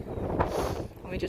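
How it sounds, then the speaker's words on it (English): Strong coastal wind at Rhyl in Wales buffets the microphone in a steady, loud roar with low rumbling gusts, and a voice talks underneath. "Wow, how windy it is."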